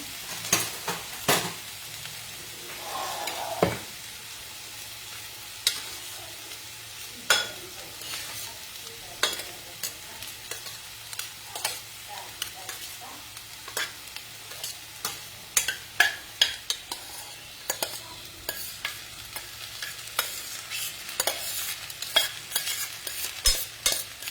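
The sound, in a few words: cooked rice being stirred and fried in a pan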